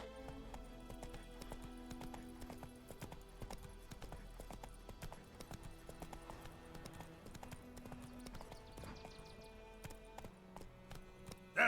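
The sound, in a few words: Roach the horse's hooves clip-clopping, from video game The Witcher 3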